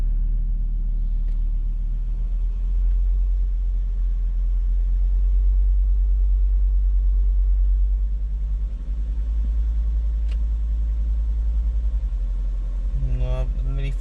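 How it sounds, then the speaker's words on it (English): A 2.4-litre non-turbo petrol engine in a Volvo S60/S80/V70, suffering a misfire, is slowly revved from idle, giving a steady, close, uneven low rumble that rises gradually. A voice talks over it throughout. "I'm revving this up slowly here."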